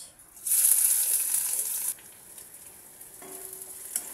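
Onion tossed into hot oil with cumin, a sudden loud sizzle that bursts up, holds for about a second and a half, then drops to a softer crackle with light stirring.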